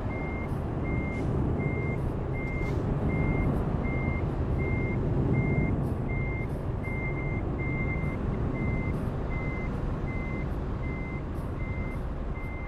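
Truck reversing beeps from Euro Truck Simulator 2 sound in a steady, evenly spaced series of single tones over a low engine rumble, with no talking.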